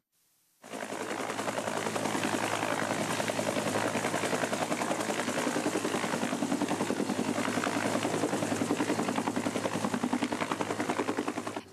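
Air force rescue helicopter during a pilot rescue exercise at Kalamata harbour: a loud, close, continuous rotor chop with a fast rhythmic pulse, starting abruptly and holding steady throughout.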